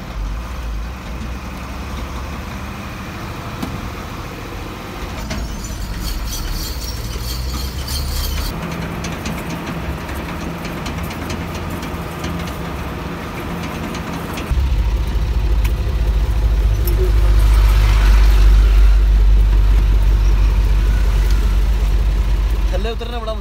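Steady low engine rumble from inside a truck cab riding along a motorway, growing louder and heavier about two-thirds of the way through, with voices talking over it now and then.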